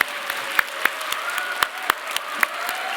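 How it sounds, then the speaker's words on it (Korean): A church congregation at a Korean Sunday service claps loudly together, a dense wash of hands with a few sharper, louder claps standing out, continuous for the whole stretch. "더 크게 박수 한번 해."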